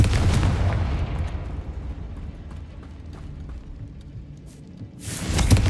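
In Hogwarts Legacy, a Confringo blasting spell erupts with a heavy explosion that fades into a long rumbling tail. A second loud burst hits near the end.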